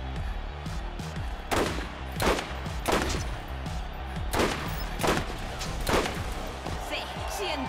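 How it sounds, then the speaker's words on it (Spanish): Gunfire in the Borderlands video game, repeated sharp shots every second or so over a dense, busy game soundscape. "Escucho disparos."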